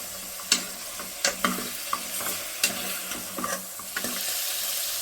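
Chicken sautéing with rock salt in a pan, a steady frying hiss punctuated by a series of sharp stirring scrapes and knocks of the spoon at irregular intervals, close and without speech.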